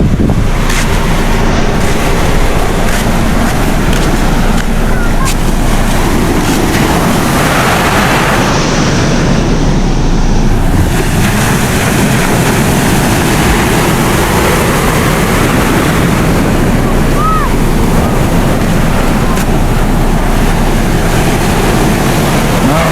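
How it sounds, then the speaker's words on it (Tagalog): Water gushes strongly and continuously, loud and close, with heavy wind buffeting the microphone and a brief lull partway through. "Lakas pagtulo ng tubig nito."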